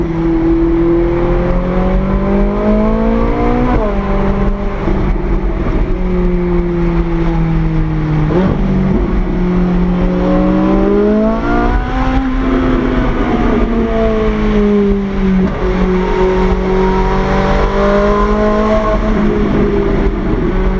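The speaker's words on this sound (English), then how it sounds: "Listen to that engine." Autocross car engine heard close and loud throughout, its revs climbing and dropping in repeated waves as the driver accelerates, shifts and lifts through the course, with no talk over it.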